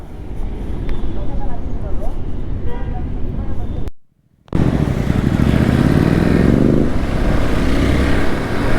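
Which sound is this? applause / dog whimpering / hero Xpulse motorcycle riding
hero Xpulse motorcycle riding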